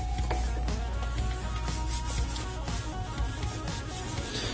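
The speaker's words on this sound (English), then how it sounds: "Just use the Daytona Speedmaster wheel brush." A Daytona Speedmaster wheel brush scrubs a car wheel, giving a steady close rubbing and scrubbing sound with faint irregular scraping strokes and a low background rumble, with no talking.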